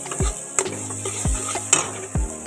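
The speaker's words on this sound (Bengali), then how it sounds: "ভালো করে মশলাটা কষানো হয়ে গেছে" Spice masala fries in a pan under a constant sizzling hiss while a spoon scrapes through it three times, each stroke a low scraping sweep with light clinks, close up and without speech.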